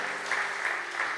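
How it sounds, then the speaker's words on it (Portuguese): A church congregation applauds during a sermon, a steady, dense wash of clapping that holds at an even level throughout with no voices over it. "Quem pode aplaudir ao Senhor por isso?"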